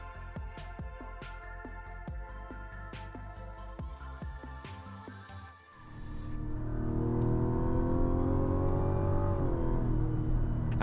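A 2025 Mazda CX-70 midsize SUV on the road, with a steady engine and road hum that swells into a louder, sustained rev as it accelerates partway through, no voices over it.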